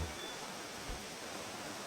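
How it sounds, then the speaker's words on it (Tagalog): Strong ocean waves at a beach campsite, a broad, steady wash of surf noise with a couple of low thuds, fairly faint and continuous with no talk. "Medyo malakas ang alon."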